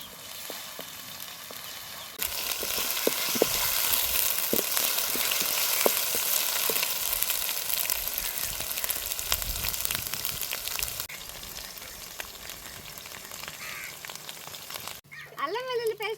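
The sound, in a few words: ginger garlic paste frying in oil with onions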